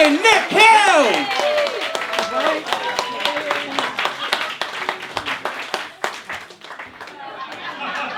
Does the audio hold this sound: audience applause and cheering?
yes